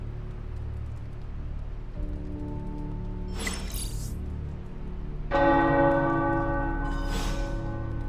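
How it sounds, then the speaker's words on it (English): Tower bells ring in a Marvel's Midnight Suns game scene, with clear, repeated bell strikes over a steady low ambient hum. They grow louder and fuller partway through and ring on to the end. "The tower bells are ringing."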